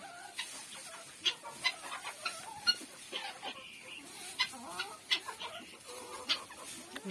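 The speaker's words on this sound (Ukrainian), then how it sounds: "Нічого, хай хай курочки погребуться." Bantam hens, mini Wyandottes, scratch about a farmyard, with soft repeated clucks and scattered short calls over faint rustling, quiet and fairly close.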